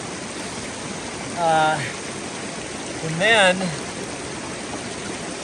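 Water flowing at a trail water source on the Colorado Trail near Durango, a steady broadband rush filling the whole clip, with two brief bursts of someone speaking over it.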